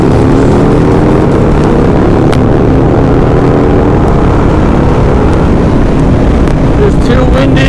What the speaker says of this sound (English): It's too windy. I'm getting pushed back.